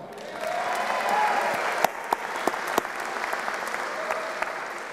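Crowd at a transit line grand opening ceremony applauds a senator's introduction, steady many-handed clapping at moderate distance with a few sharper individual claps standing out, fading slightly toward the end.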